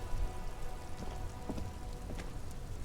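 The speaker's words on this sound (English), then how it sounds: "It's raining again." Rain falls steadily in Disco Elysium, a close, continuous patter of drops with a few sharper splashes standing out against the wash of noise.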